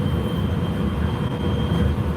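A steady low rumble of a moving train carriage, with continuous rolling and rattling noise throughout, no voices heard.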